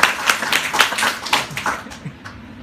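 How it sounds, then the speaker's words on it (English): An audience at a weight-loss product presentation claps with fairly sparse individual handclaps in a short, uneven burst that fades toward the end. "Let's give her a round of applause."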